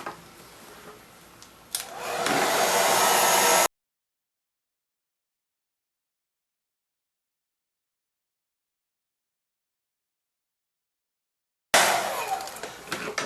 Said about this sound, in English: we'll grab the hairdryer and get things warmed up